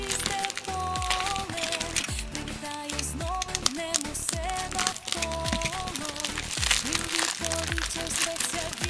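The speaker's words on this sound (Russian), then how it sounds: "открываем первую посылочку" Someone opens an AliExpress parcel by hand, crinkling and tearing the packaging with steady rustles and crunches. Background music plays throughout.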